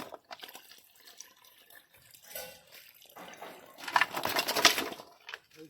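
Tap water runs and splashes while clams are washed in a sink, swelling into a louder gush toward the end, with no talking.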